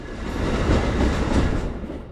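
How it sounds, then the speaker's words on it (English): Amtrak Regional train rushing past a Metro North local train at South Norwalk station, a loud, steady roar of rolling wheels and rail clatter filling the whole span with no voices. "Here's Amtrak Regional Train 88 passing a Metro North local on track 4."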